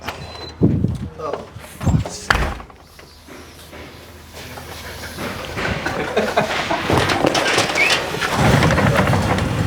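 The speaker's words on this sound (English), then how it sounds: "I'll just open this door and I'll let you guys in." A large workshop door at a classic car restoration garage rattles and rumbles as it opens, a few sharp knocks giving way to a long grinding roll that swells louder.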